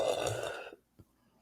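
A brief, low, guttural burp rumbles out loud at the start and fades within a second, followed by a faint short sound and near silence.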